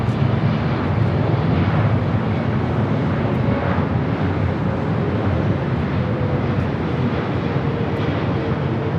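A United airliner taking off from runway 24 left at LAX, its engines producing a loud, steady roar with rushing wind, heard continuously from close by.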